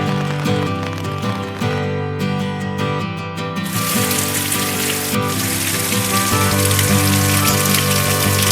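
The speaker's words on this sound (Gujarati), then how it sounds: "અત્યારે વરસાદ પહેલાં કરતાં પણ વધી ગયો છે." Heavy rain falls hard on flooded farm fields, a loud and continuous downpour close by.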